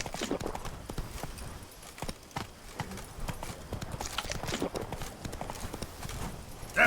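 Roach, the horse in The Witcher 3: Wild Hunt, gallops in a steady, rapid clip-clop of hooves that stays fairly close and loud throughout, with game ambience underneath.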